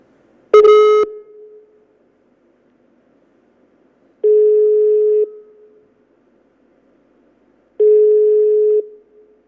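Ringback tone of an outgoing telephone call that goes unanswered: three long, steady tones spaced a few seconds apart, loud and clear against silence, the first starting with a brief click.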